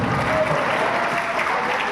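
Loud, dense applause from an audience at a stage announcement ceremony fills the whole stretch steadily, with no pause.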